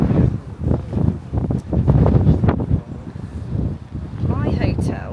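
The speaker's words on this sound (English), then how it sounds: "It's sunny and it's windy" Strong wind on a sunny day in Riga, Latvia buffets the microphone in a steady, rumbling roar that rises and falls, close and loud, with faint voices underneath.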